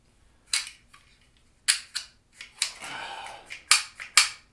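Sharp plastic clicks from the shutter release of a Sunpet plastic camera, several separate snaps in an irregular sequence, close and distinct over a quiet background.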